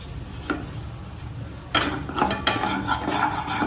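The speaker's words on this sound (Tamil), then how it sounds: "நம்ம கொஞ்சமாக மைதாவை அப்படியே கலந்து கட்டி இல்லாமல் கலந்து எடுத்துக்கலாம்." Maida flour being stirred into melted butter in a pan for a creamy white sauce, heard as scraping and clinking of a utensil against the pan, sparse at first and then busier and more continuous in the second half.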